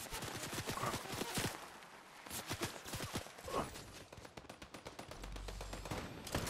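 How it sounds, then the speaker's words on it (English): Fortnite gunfire crackles in dense, rapid volleys of sharp cracks, mid-distance and fairly loud. Brief pauses separate several clusters of shots. "They're shooting at me?"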